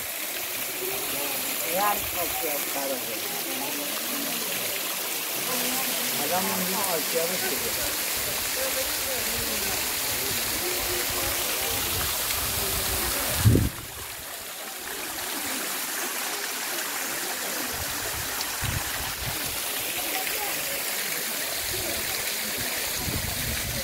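The Asiab Kharabeh waterfall and its flowing stream, a steady, full rush of splashing water that fills the whole scene, with a brief thump partway through and occasional voices in the background.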